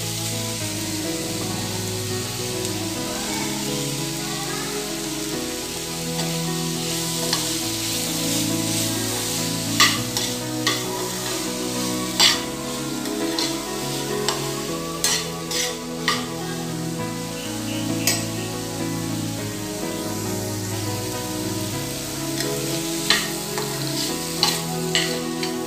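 Onions and chopped tomatoes sauté in a pan, a constant close sizzle overlaid by recurring spoon scrapes and taps that grow more frequent toward the end, no talking.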